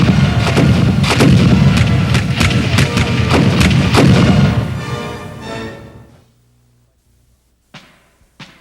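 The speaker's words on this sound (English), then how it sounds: "the lead ships of both squadrons were firing broadsides at almost musket range" Warship cannons fire broadsides in a naval battle, a rapid series of heavy, booming blasts rolling together loudly before fading into silence, with a couple of isolated thumps afterward.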